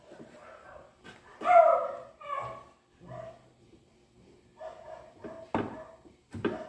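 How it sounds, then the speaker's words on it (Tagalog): A dog barks several times in a home kitchen while food is being prepared, the sharp yips and barks coming in short bursts at moderate distance with quiet gaps between them. "kung naririnig yung mga tahol ng aso"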